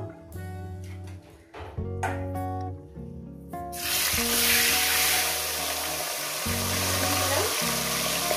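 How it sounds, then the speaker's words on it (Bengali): Catla fish head slid into hot oil seasoned with a little salt bursts into a loud, steady sizzle partway through, continuing over background music. "তেলটা গরম হয়ে গেছে, দিয়ে দেবো সামান্য পরিমাণে লবণ। এবার দিয়ে দেবো মাছের মাথা"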